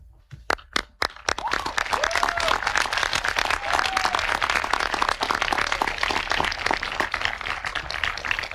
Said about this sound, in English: Graduates, please stand and with me give your parents a round of applause